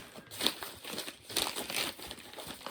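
Packaging handled up close, plastic bag and cardboard box crinkling and rustling in a steady stream of crackly bursts, with no one speaking.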